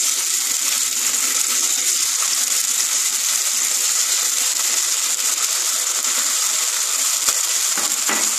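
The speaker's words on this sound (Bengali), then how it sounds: "তেলে ছিটে আসছে" Hot oil crackles and splatters loudly while soya chunks and chilli fry in a pan, a dense continuous sizzle with sharp pops scattered throughout, close and steady.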